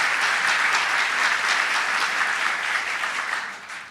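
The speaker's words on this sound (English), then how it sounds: "Let's give them a round of applause for doing what they do in public service" A large crowd at a New York State gubernatorial inauguration in Buffalo applauds for the Hochul family, a dense, loud wash of clapping that holds steady and then tapers off.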